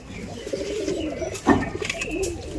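Pigeons cooing close by in a loft, with soft rolling low coos repeating throughout and one louder burst midway.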